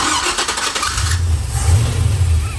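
An LS-swapped square body truck engine cranks briefly with a rapid starter whir, then fires and settles into a low, steady idle rumble, close and fairly loud with no talk.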